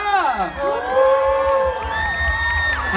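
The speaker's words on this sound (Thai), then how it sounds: "ขอเสียงปรบมือกเพื่อนทุกคนด้วยจ้า" A crowd at a Thai fan event cheers for the actors with loud whoops and high, sustained shrieks that swell and fall over three seconds, close and continuous with no clear talking.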